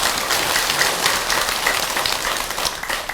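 Sustained audience applause fills a Buddhist dharma talk hall during a Ghost Festival (Baekjung) prayer service at Beomeosa temple in Busan, a dense, steady wash of many hands clapping at once, loud and close with no speech over it.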